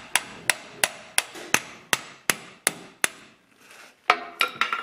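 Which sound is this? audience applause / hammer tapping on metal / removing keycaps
hammer tapping on metal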